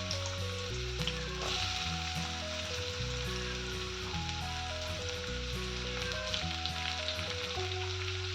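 Chopped onions frying in oil for cabbage pakoda make a steady, soft sizzle that continues throughout, with background music playing over it.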